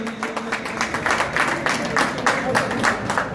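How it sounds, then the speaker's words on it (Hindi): An audience applauds at the opening ceremony of Jhelum Cricket League Season 5, producing a dense, continuous patter of many hands at moderate loudness, with a little murmur from the crowd underneath. "भरपूर तालियों से इस फोरम की हौसला अफजाई कीजिए।"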